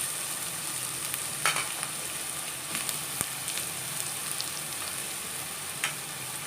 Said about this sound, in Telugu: తరిగి పెట్టుకున్న ఆనపకాయ ముక్కలు ఆయిల్లో మగ్గనిస్తే కొంచెం టేస్ట్, అంటే ఆనపకాయ అనేది చిన్నది మెత్తబడుతుంది అన్నమాట